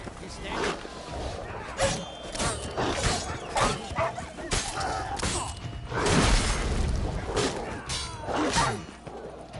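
A dog in The Witcher 3 barks and yips in sharp bursts amid combat clangs and impacts, with someone talking over the fight.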